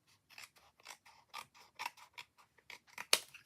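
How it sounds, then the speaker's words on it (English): Scissors snipping off excess paper from a stamped card, a series of close, quiet crisp cuts in an uneven rhythm, ending in one sharper final snip, with no talking. "on the back I'm going to cut off that excess"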